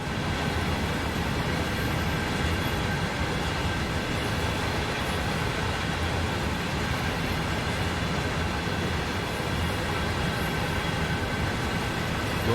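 Freight trains of around a hundred cars rolling over Sherman Hill in a train simulator game, a steady, loud rumble of wheels and cars that holds evenly throughout with no talking.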